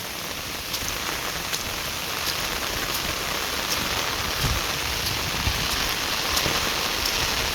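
Steady rain pours down close by in Laos, a dense hiss of drops striking a surface with occasional louder splats, no voices.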